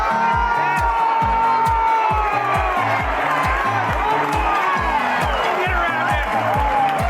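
A stadium crowd at an Australian football match roars and cheers after a match-sealing goal, a loud, sustained wash of voices with steady rhythmic clapping or drumming underneath.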